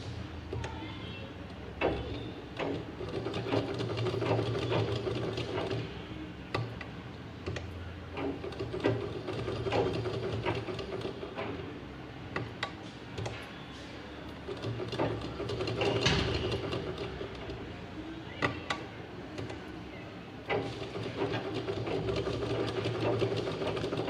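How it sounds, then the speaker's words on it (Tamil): Sewing machine stitching cloth pieces together for a pouch, a steady mechanical whir with rhythmic needle clatter running almost continuously, close and moderately loud, with brief pauses. "வச்சுட்டு 4 பக்கமும் ஒரு தையல்."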